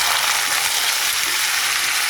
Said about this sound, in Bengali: তেলটা দিয়ে দিয়েছি, গাজর আর বাঁধাকপিটা ভেজে দেবো